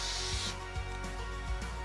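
A power drill drives the hex drive of a drill jig cutter, producing a continuous whirring buzz with a few soft periodic knocks. The sound is close and steady, with no voices.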